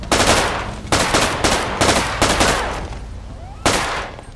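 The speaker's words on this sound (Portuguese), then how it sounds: "A gente tava com essa metralhadora aqui, com um silenciador, sem problemas." Short bursts from a suppressed machine gun in GTA V, five or six rapid rattling volleys in quick succession, loud and close, with a final burst after a brief pause.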